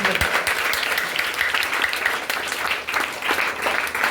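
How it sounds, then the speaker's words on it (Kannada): Pupils clap loudly at a government primary school's Vivekananda Jayanti quiz, dense steady applause filling the whole stretch at close range. "ಅವು ಜೋರಾಗಿ ಚಪ್ಪಾಳೆ ತಟ್ಟೋದು."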